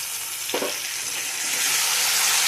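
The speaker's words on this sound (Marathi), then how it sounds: "हे छान अशा भाज्या आपण परतून घेतलेला आहे" Chopped vegetables and tomato sautéing in a pan with tomato sauce for pasta, a steady bright sizzling hiss with a short stirring scrape early on, growing slightly louder toward the end.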